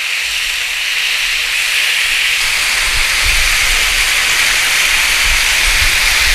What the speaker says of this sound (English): But you know, rainy, cook in a pan